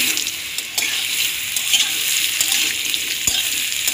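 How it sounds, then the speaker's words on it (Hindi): Mango pieces fry with fennel in a hot pan while pickle is made, a steady near sizzle with faint stirring scrapes and a sharp tap near the end. "ये हमारा आम है, जो कि हम लोग लिए हुए थे, पीसेस में कट किए हुए थे, तो इसको हम लोग इसके अंदर डाल के फ्राई कर लेंगे"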